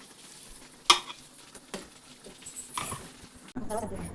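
Garelu, lentil vadas, frying in hot oil in a home kitchen during Diwali, a soft steady sizzle with a sharp clatter near the start and louder bubbling bursts toward the end, while someone talks over it.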